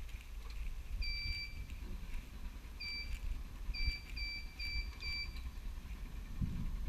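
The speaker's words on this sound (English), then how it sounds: "We heard the series of continuous beeps." Observatory dome controller giving a series of short, clear electronic beeps, first singly and then in a quick run of several, faint over a low outdoor rumble with no talking.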